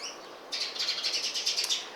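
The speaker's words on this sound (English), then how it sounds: "The birds are fighting again." Small birds chirp and squabble in a rapid, busy burst of high tweets that starts abruptly and continues, fairly close, with no talking over it.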